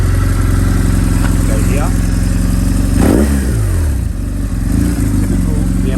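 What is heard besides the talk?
BMW R1100S Boxer Cup motorcycle engine revving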